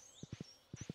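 Horse hooves clip-clop in Stardew Valley, two quick bursts of three close, even footfalls separated by a short pause, with a faint high tone drifting behind.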